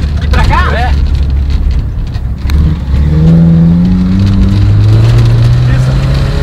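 A Ford Corcel fitted with a 3.9 turbo intercooler engine revs hard and loud close by, its rising engine tones climbing over the second half while voices talk over it.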